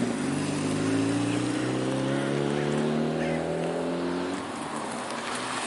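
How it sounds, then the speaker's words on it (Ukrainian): A car passes close by, its engine rising and then fading over several seconds, loud and steady over outdoor street noise. "Доню машина."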